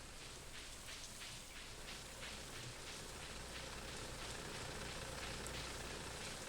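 Rain falls steadily in Stardew Valley: an even, dense patter hisses without pause for the whole stretch, soft and ambient.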